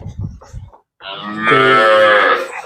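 A dairy cow at a village farm lets out one long, loud, close moo lasting over a second, preceded by brief low rustling and a short pause.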